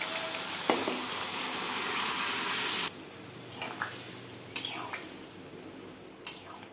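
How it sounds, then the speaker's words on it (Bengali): Ghugni, a dried pea curry, cooks in a pan with a steady loud sizzle that suddenly drops off, followed by scattered scrapes and clinks of stirring, close by. "এখন আমি এদিকে ঘুগনিটা চাপিয়ে দিচ্ছি"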